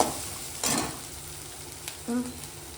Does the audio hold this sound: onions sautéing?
yes